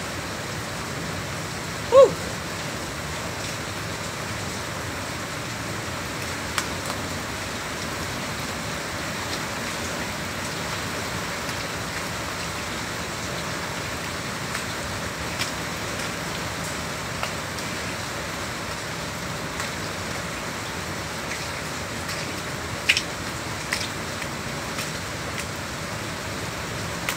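Heavy rain pours steadily during a flood over fields turned to water, a dense even hiss with a few faint knocks, no talking.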